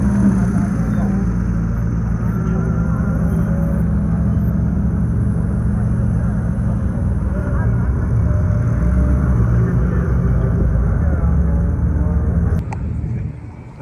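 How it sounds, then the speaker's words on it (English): Supercars including a McLaren Sabre heading out on track for warm-up laps, a dense, continuous low engine rumble from several cars close by, holding steady for a long stretch before easing off near the end. "The cars are going out on track now doing their warm-up laps."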